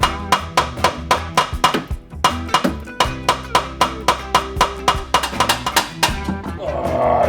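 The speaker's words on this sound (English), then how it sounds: "Okay, I need a rubber hammer or something." A rubber hammer knocks on a car exhaust pipe under the vehicle in a cramped space, giving a steady series of about fifteen sharp, ringing metallic blows at an even rhythm, loud and close.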